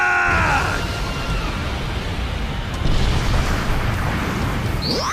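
Vegeta's Big Bang Attack energy blast detonating in a loud, sustained rumbling explosion with a broad roaring wash that swells midway, followed by a rising whoosh at the end.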